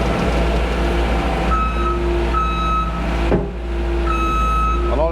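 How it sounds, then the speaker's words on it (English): A vehicle's reversing alarm beeps repeatedly in steady, evenly spaced tones over a loud, continuous low engine rumble, close by. "that reversing alarm is going to annoy the what's name out of me"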